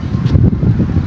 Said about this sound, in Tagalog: Sobrang lakas ng hangin dito, guys.